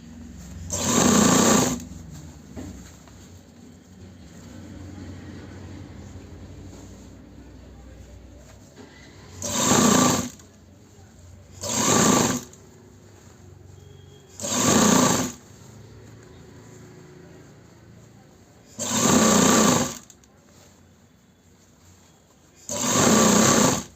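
A sewing machine stitches an embroidered suit in six short, loud bursts of rapid whirring, separated by quieter pauses.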